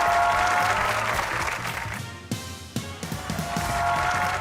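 A studio audience at an Eid special comedy talk show claps loudly for the whole team, with dense applause that dips briefly in the middle before swelling back.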